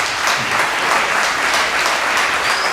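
An audience at a Hindi-language Christian church gathering breaks into steady, loud applause, a dense wash of clapping that holds evenly for a few seconds with no voices over it.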